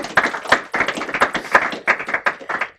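A small group clapping, quick irregular hand claps close by, lasting a few seconds with no voices.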